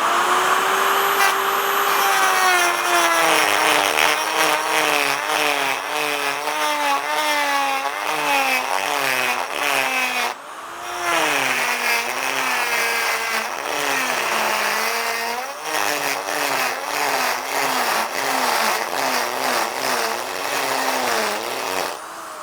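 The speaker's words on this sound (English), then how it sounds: "We'll try it and see what the little ball cutter does to that." A small carbide ball burr in a die grinder cuts into a tough 7018 weld, giving a loud, continuous high-pitched whine that wavers and dips as the load changes, with a brief pause near the middle before grinding resumes.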